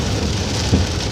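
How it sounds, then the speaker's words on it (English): Heavy rain pours down outdoors in a dense, steady roar of drops on surfaces, loud and continuous with a brief low rumble partway through. "And it's raining, so I hope y'all can hear me clearly. And it's coming down hard."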